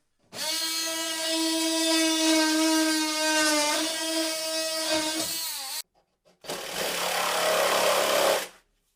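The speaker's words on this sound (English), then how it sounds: "I don't have the depth here to use the saw all the way in, and I don't want to cut this blade down" Power saw trimming a luan panel during a motorhome rebuild, a loud whining cut of about five seconds, then a brief pause and a second short, rougher cutting burst.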